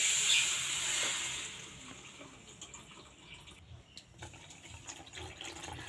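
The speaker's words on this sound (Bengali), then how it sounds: "চিনি যতটা চিনি ঠিক ততটাই কিন্তু দিয়ে দেবো জল" Water pours onto sugar in a bowl for syrup, a loud hissing splash at first that thins into a quieter trickle and faint movement sounds.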